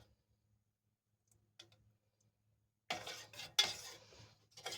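A spoon stirring homemade ketchup in a brand new enamel pot, with a few faint clinks early on and then a stretch of scraping, clattering metal-on-enamel stirring, close by.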